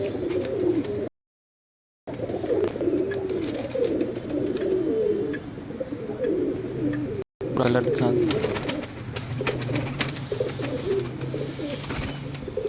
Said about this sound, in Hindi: ये बाबर साहब के डब वाले कबूतर हैं